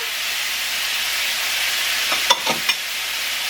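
Carrots, peppers and onion sautéing in a hot pan for udon noodles with chicken, a steady hiss of sizzling with a few sharp clinks and scrapes of stirring near the end.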